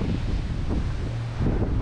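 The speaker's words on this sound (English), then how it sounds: "We probably have like steady, what, 25-mile-an-hour winds?" Strong, steady desert wind of about 25 miles an hour buffets the microphone with a loud, continuous rumble and whoosh, with no voices.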